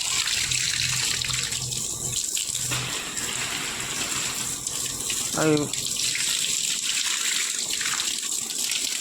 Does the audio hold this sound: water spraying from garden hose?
yes